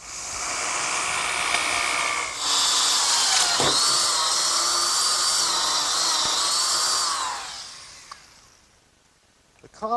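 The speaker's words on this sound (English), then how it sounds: "I'm ready to drill a hole through the 2x4 in oak for my bench screw. And I'll do that with an 1 3/8 bit" A power drill with a 1 3/8 inch bit bores through an oak 2x4, a loud steady whine that drops in pitch as it bogs, then fades out near the end with a few brief knocks.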